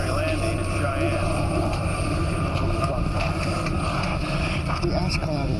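Cabin of an airliner in a disaster movie making an emergency landing through an ash cloud: a loud, steady roar of engines and rushing air fills the whole scene, with speech mixed in.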